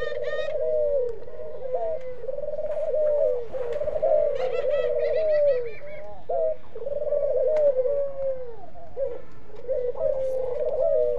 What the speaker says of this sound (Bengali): আমার মেজো ভাইয়া ঘুঘু পাখিগুলা লালন পালন করে, খুব সুন্দর ডাকাডাকি করতেছে মাশাল্লাহ।